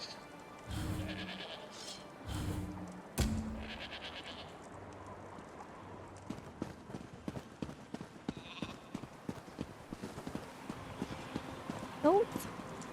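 Goats bleat in short bursts in the video game Elder Scrolls Online, mixed with horse hoof clip-clop and footsteps, under a player's voice.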